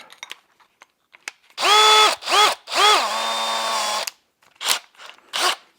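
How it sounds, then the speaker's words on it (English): A drill with a spade bit boring a hole in wood for a beehive nuc box whines up in three bursts, the motor pitch rising and settling as it spins, then stops; brief rustling noises come before and after. "drill a hole in the middle of it. So let's start with our spade bit here."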